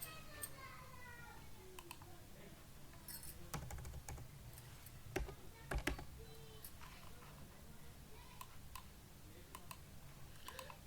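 Quiet clicking of a computer keyboard being typed on, in irregular bursts of keystrokes with brief pauses between them, close and faint.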